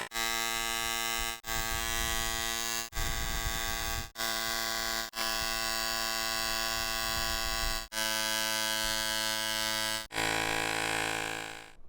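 GooLoo GT160 pocket portable air compressor inflator running with a loud, steady electric buzzing drone, broken up by several short cuts and restarts.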